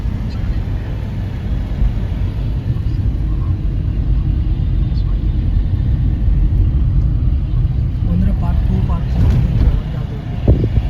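A car climbs a winding uphill road toward Hazarika's memorial near Guwahati, giving a steady, loud engine and road rumble from inside the cabin, with wind buffeting the microphone.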